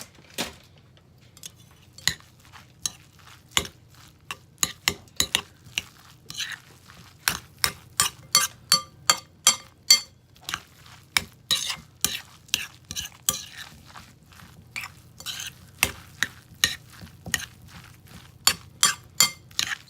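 Cauliflower pizza dough being mixed with cheese in a bowl, a quick irregular run of sharp scraping and tapping stirs, close and fairly soft, with no talking.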